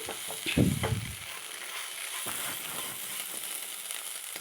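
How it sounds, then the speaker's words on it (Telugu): Spiny bitter gourd fries in a pan with a constant sizzling hiss, opened by a louder stir or toss, then followed by quieter scraping movements, close and alone with no talk. "జాగ్రత్తగా వేయించుకోవాలండి లేకపోతే మాడిపోయే ప్రమాదం ఉంది"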